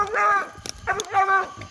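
Coon hounds bay at a raccoon treed on a hot summer night, two long, drawn-out howling calls close by with a short pause between them.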